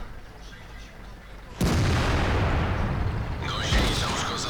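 A sudden heavy boom of a tank gun firing in the World of Tanks battle game, with a Maus tank involved, then a sustained rumbling tail; a voice comes in toward the end.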